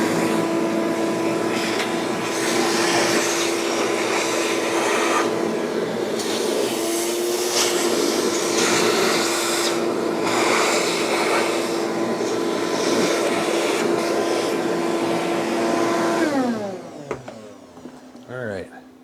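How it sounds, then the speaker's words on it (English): A vacuum cleaner roars steadily with a constant whine, then winds down and cuts off near the end. "And we'll get the vacuum cleaner here again."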